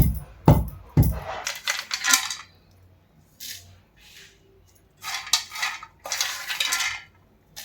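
Roasted peanuts tumble into a stone mortar for a village-style chutney, giving scattered close clattering and rattling bursts with brief quiet gaps between them.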